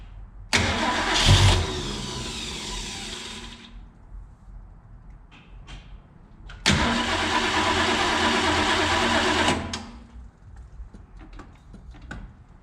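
Ford 289 V8 engine swapped in place of a six-cylinder, cranking and catching on its first start, with two loud bursts of starter and engine roar separated by a pause, each running a few seconds before cutting off.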